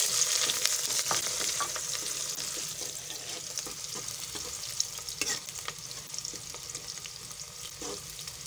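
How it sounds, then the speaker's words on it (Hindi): Onions sizzle and fry in hot ghee in a pan while cooking a pumpkin dal, a steady soft crackle with occasional stirring scrapes, close and fairly quiet, with no talk. "अब इसमें हम प्याज शामिल करेंगे।"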